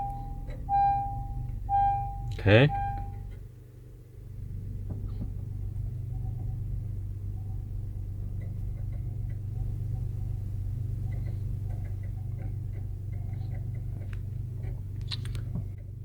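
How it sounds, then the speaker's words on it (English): A 2018 Honda Pilot starts from its push button: a chime sounds, the starter cranks for a moment, and the engine catches into a steady, low idle rumble that holds close by, with a brief spoken word early on. "let me start the car real quick by pressing the push start right there"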